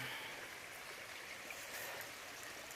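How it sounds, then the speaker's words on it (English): A small stream flows outdoors on a hiking trail, giving a steady, faint rushing and trickling of water with no other sounds. "it looks like there's a stream here as well."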